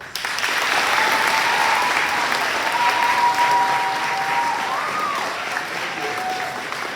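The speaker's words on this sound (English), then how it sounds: "So graduates, please give them a round of applause." An audience at a middle school graduation ceremony breaks into loud, sustained applause, a dense continuous roar of many hands lasting several seconds, with faint whistles or cheers riding over it.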